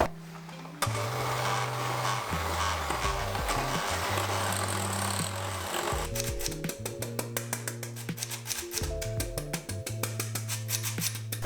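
Electric mixer beating batter for rhubarb cheesecake bars as yogurt and the last dry ingredients go in, a steady whirring motor hum that turns into a faster rattling pulse partway through, fairly close.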